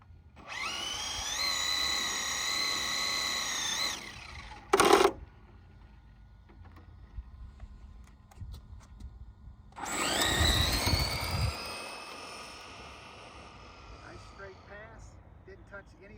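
A Traxxas Drag Slash or Losi '68 Ford F100 RC drag truck makes two short passes, each a high electric motor whine that rises and stops, separated by quiet and a brief loud burst, with talk in between.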